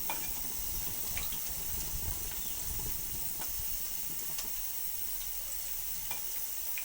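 Pumpkin fritters sizzle steadily in hot white oil, a dense continuous frying hiss with occasional small pops and spatters, close and loud with no voices.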